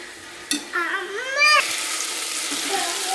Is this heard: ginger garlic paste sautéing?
yes